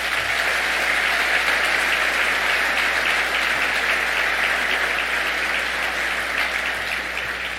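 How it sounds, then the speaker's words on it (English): A large audience at a USBC bowling association convention annual meeting applauds in a broad, sustained wash of clapping that holds steady and begins to thin toward the end. "Please give them all a round of applause."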